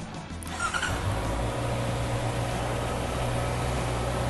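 A 2020 Honda CBR650R motorcycle engine idles steadily and close by, a constant low mechanical hum with a brief rise at the start and no talk over it.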